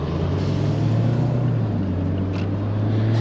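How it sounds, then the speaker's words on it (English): Heavy trucks rumble past on the road, a steady loud low drone of engines and tyres heard from an open-top Mazda MX-5 Miata RF Club with automatic transmission during a drive. "we got some noisy trucks going along."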